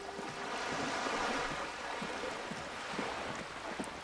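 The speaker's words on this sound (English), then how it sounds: "That's the waves, Chronos, I think. I don't remember them sounding like that." Ocean waves wash in the Disco Elysium game world, a steady breathy surf roar swelling and easing, fairly close and heard alone with soft wind-like hiss.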